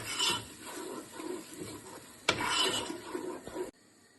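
Stirring sauce and cooked onions in a pan over low heat for spicy desi pasta: steady scraping and rubbing of a utensil against the pan, near and moderately loud, with a sharp clank partway through before the sound stops.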